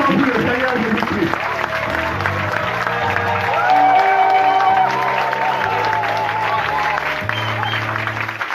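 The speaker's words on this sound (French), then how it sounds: "Applaudissez très très fort pour le Seigneur Jésus-Christ." A church audience claps hard with scattered cheers, dense continuous applause running over ongoing keyboard music for several seconds.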